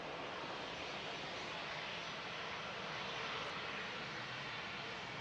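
An easyJet airliner taxiing at Manchester Airport produces a faint, steady distant jet-engine hiss and rumble that continues evenly, with no voices.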